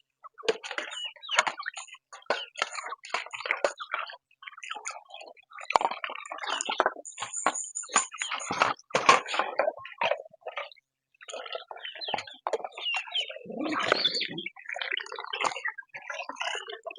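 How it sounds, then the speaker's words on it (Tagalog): Ducks at a neighbour's place quack and chatter in a continuous jumble of nasal calls, moderately close, with brief gaps and no talking over them. "Pansin nyo mga pato."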